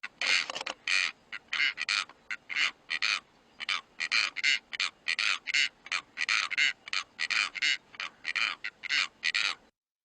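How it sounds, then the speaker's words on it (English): A rapid series of harsh, croaking blue korhaan calls repeating in quick bursts for about ten seconds in South African arid grassland, loud and fairly close with no talking. "another coran species that is very much restricted to our arid grasslands is the blue coran"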